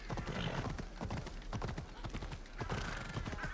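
Horse hooves clip-clop steadily in Assassin's Creed Odyssey, a quiet rhythmic trotting with a brief whinny-like sound, under someone talking.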